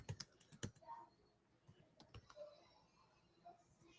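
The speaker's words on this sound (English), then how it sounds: "I'm gonna type it" Keys clack on a computer keyboard in a quick burst of close, crisp taps, then sparser scattered presses follow at a low, quiet level.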